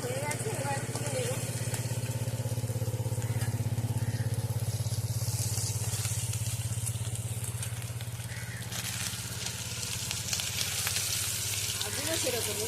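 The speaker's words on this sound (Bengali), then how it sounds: "মাছগুলো ভাজা হয়ে গেছে, এবার তুলে নেব।" Shing fish frying in hot oil for a light curry with potato and taro, a dense, continuous sizzle with crackling and faint voices in the background.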